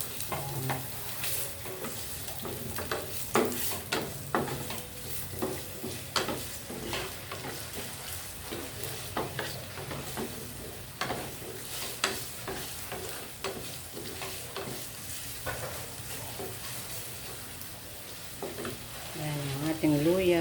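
Ginger sautéing in a pan at the start of cooking squid adobo: steady frying sizzle with repeated scraping and stirring strokes throughout, close and fairly loud, with a voice speaking intermittently over it.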